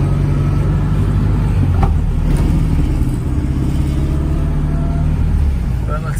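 A 1970 Volkswagen Beetle drives along, its air-cooled engine giving a continuous, close, low rumble heard from inside the car, with some road noise and light rattles throughout.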